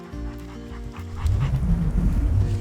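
Hunting dogs on an upland bird hunt pant heavily at close range, a quick, rough breathing rhythm that starts about halfway through, after a quieter low hum.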